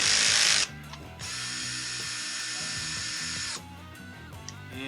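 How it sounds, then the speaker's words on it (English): Screws are driven out of a Husqvarna 122C string trimmer with a power drill, heard as a high whine of two loud bursts split by a pause, with faint ratcheting clicks underneath. "that means that 3 more screws are going to have to come off"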